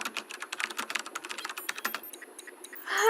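Rapid clattering keystrokes on a computer keyboard, fairly close and crisp, tapping in an uneven burst that slows and thins out toward the end before a brief voice or noise enters.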